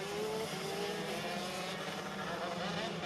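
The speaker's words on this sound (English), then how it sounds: "This is a 125 shifter, 6-speed gearbox." A 125 shifter kart with a six-speed gearbox and unrestricted exhaust racing at Sonoma, its high-revving two-stroke engine droning steadily at a distance with rising pitch as it accelerates.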